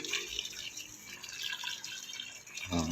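Cold water splashes and trickles onto potted plants in a continuous hissing patter, a near and fairly soft pour with a heavier gush at the very end.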